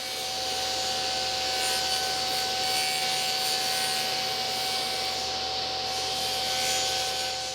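A table saw makes its first cut through a crosscut sled, a loud continuous whirring drone with a steady tonal hum, close up and unbroken.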